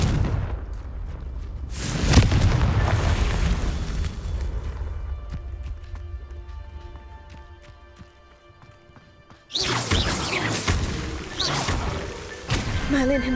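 A Confringo fire spell is cast in Hogwarts Legacy, giving a deep booming blast followed by a fading rumble, then a second burst of crackling impact noise, with a voice heard briefly.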